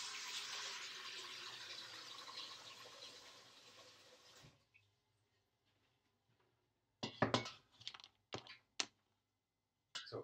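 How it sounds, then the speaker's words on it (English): Water pours steadily into a yarn dye pot for several seconds with a soft rushing sound. It stops, and a few sharp clinks and clatters of handling follow. "I'm just going to add water here."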